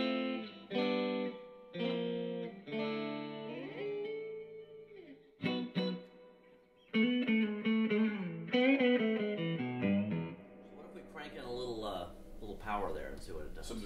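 Distorted electric guitar plays short sustained notes and phrases with pauses between, fairly quiet and dry, some bends toward the end.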